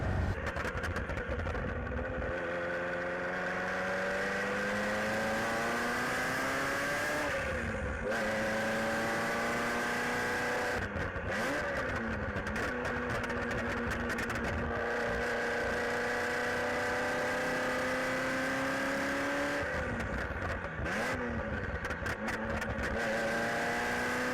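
A Ferrari F40 engine runs while warming up, a loud, continuous mechanical drone whose pitch rises and falls with several revving swells, heard close with no voices.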